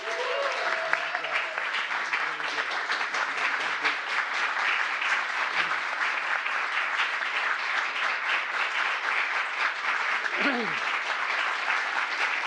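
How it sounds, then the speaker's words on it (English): An audience applauds the President as he arrives for remarks on judicial confirmations, a dense, steady wash of clapping from many hands throughout, with a brief cheer and a voice rising above it early on. "I'm sure you're clapping because I finally showed up."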